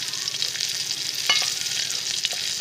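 Nigella seeds sizzle in hot oil in a wok, a steady crackling hiss, close and constant, with one brief scrape partway through.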